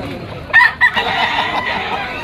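Gamecock rooster (a round-head bull stag) crowing at a busy outdoor market in Malabon, two short loud crows early on over a steady crowd murmur.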